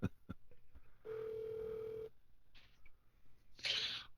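A telephone call being placed: a single steady one-second ring tone sounds in the handset, quiet and clean, surrounded by brief clicks and a short bright burst of line noise.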